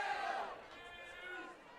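Crowd at a Gaelic football match, a ladies' senior county final in Dublin, giving a brief swelling murmur of amused reaction that fades to a steady background hum.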